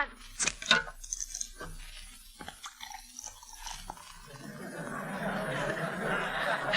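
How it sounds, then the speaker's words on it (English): Cold beer bottle opened and poured into a tall glass: a few clinks and a cap pop first, then a rising fizzing gurgle of liquid filling the glass, close and clear, with no talk over it. "So especially for Sergeant Willie Anderson, please open a bottle of cold beer and pour it into a tall glass."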